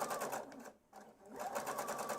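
A sewing machine topstitching fabric alongside a serged seam, a close, steady mechanical whir with rapid needle rhythm that pauses briefly before resuming.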